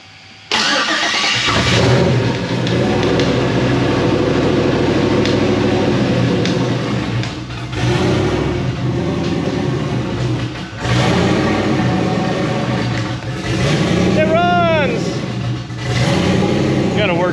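A car engine cranks and catches after the fuel pump is primed, then runs loudly and steadily at a mid-pitched idle with slight revving, while voices talk over it throughout.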